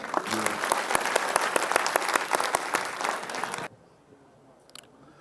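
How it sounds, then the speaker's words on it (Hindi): A seated audience at an Urdu poetry mushaira in Delhi breaks into loud, sustained applause that cuts off abruptly, leaving a quiet hall with faint stray sounds. "जोरदार तालियां आलोक श्रीवास्तव के।"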